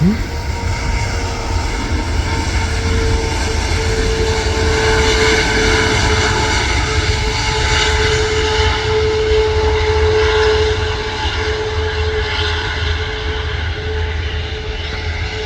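An Atlas Air Boeing 747 rolling on the runway at Manchester Airport, its jet engines giving a loud, steady roar with a sustained whine that runs unbroken throughout.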